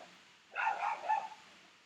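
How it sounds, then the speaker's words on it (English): A pet dog gives a short, muffled burst of barking, faint and somewhat distant, with no talk during it. "my dog interrupts me when I start giving statistics"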